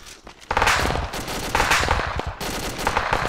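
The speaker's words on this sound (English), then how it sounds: "Machine guns everywhere." Machine gun fire in Arma 2 during a city raid, several loud sustained bursts separated by brief pauses, close and dominant with almost no talking.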